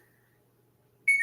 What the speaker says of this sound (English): I wish my phone would stop doing that.